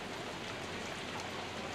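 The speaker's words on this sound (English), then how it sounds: "Is that rain?" Rain falls steadily at an outdoor amusement park, an even, soft hiss of drops spread across the whole stretch with no breaks and no voices.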